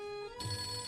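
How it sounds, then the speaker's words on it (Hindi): A short burst of an electronic phone ringtone, a bright tone that switches to a fuller chime partway through, fairly close. "मुझे लगता है पप्पू आपको मिस्ड कॉल मार के ना तंग कर रही हैं।"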